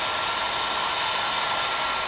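A heat gun blows steadily over a cracked iPad screen, a continuous broadband airy roar at constant level with no pauses, close to the microphone.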